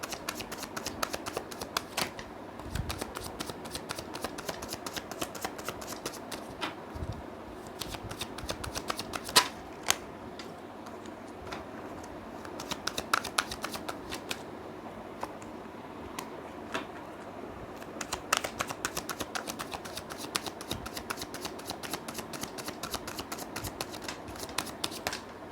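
A deck of tarot cards is shuffled steadily for a long stretch, with dense riffling and flicking that stays close and fairly loud, broken only by brief pauses and no talk.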